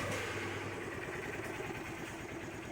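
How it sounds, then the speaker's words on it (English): A Honda XR150L motorcycle engine idles steadily up close, a continuous low rumbling putter that holds an even level throughout without revving. "So it's not bad when you first start it up and it's idling."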